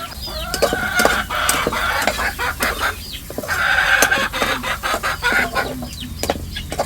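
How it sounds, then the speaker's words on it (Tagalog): Several chickens cluck busily and continuously close by, with overlapping calls and occasional louder squawks. "Magulo po yung mga manok."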